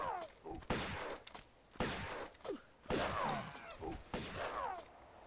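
Pistol shots fired at apes in the 1996 Tomb Raider, several sharp bursts in a ragged rhythm, loud and close, with animal cries between them.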